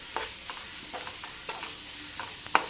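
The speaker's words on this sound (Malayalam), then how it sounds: "ഇനി നമുക്ക് തയ്യാറാക്കി വച്ചിരിക്കുന്ന പാവയ്ക്ക അത് ഇതിലേക്ക് ഇട്ട് കൊടുത്തു" Sliced bitter gourd tipped into a hot pan sizzles steadily while a spoon scrapes and stirs it in a few light, clicking strokes, close by with no talking.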